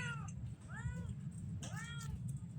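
A cat meows three times, drawn-out and plaintive, close by over a low background rumble.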